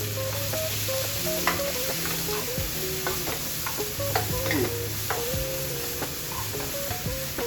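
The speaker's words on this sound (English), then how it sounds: "I want to add a little bit more oil, and then add our onions." Onions sizzling in hot oil in a pan for Korean japchae, a steady frying hiss with occasional stirring scrapes and light clicks throughout.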